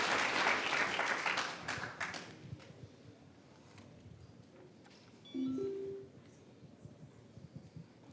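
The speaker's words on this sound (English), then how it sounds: "can I get a round of applause?" An audience applauds after a talk; a burst of clapping is heard for about two seconds and then fades away, leaving quiet room noise and a brief tone.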